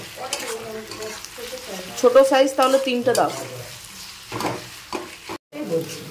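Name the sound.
frying ginger garlic paste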